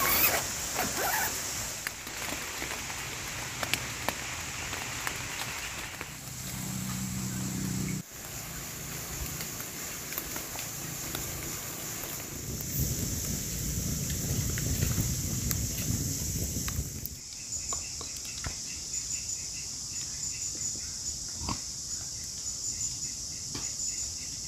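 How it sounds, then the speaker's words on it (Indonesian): Rain falling on a forest campsite at night during a sudden windy downpour, a steady dense hiss that shifts in intensity, with insect-like chirps and a few knocks heard close by. "Bah. Hujan."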